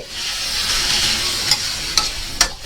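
Pork stir-fries in a hot pan with a loud, continuous sizzle, broken by three sharp scrapes or clanks of a utensil as the meat is stirred near the end.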